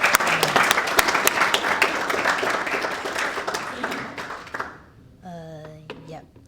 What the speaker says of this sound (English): you give a nice clap to the person in front